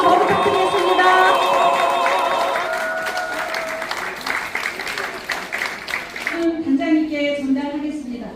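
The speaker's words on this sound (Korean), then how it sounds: "우리 박수 부탁드리겠습니다." Applause from an audience at a Buddhist missionary corps training session in Seoul, a steady wash of clapping layered with tonal music and voices early on, then thinning into scattered claps as a voice speaks toward the end.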